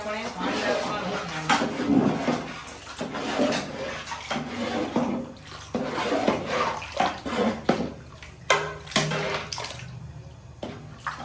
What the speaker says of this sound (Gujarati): હવે આપણે પાણી નાખવાનું છે.